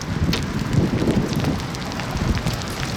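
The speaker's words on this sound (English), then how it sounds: "Ooh, that hail's starting to sound painful." Hail pelts down during an Illinois tornado storm, a dense crackling patter of close impacts mixed with gusty wind.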